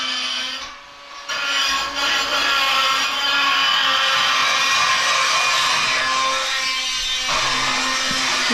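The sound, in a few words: die grinder grinding out an old cracked weld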